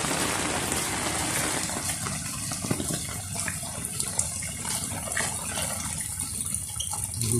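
Heavy rain pouring down steadily, a dense, continuous hiss and wash of water close by with no break, filling the whole stretch without voices.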